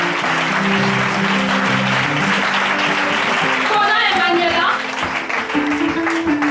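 A church congregation applauds the girls at a Sunday testimony service, sustained clapping over a low musical drone, with voices and cheers mixed in throughout.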